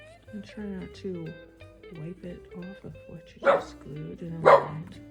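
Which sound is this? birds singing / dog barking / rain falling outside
dog barking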